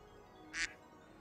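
Single short duck quack in a Pokémon battle, a brief nasal burst that stands out once against quiet background, fairly faint and alone.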